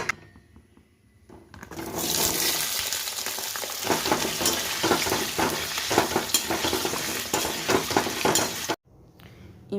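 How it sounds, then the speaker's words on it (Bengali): Potatoes fry in hot oil in a wok, a loud, dense sizzle with crackling pops that starts after a quiet opening second, runs steadily with stirring clinks, and cuts off briefly near the end. "এবার আবার কড়াইতে তেল গরম করে আলুগুলো ভেজে নেব"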